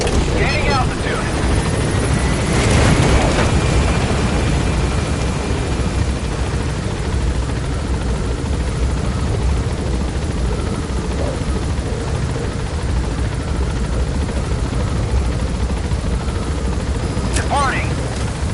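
Helicopter extraction in a video game, lifting off and departing toward Mother Base: a steady, loud rotor and engine drone fills the whole stretch, with faint gunfire-like booms early on and brief radio-style voices.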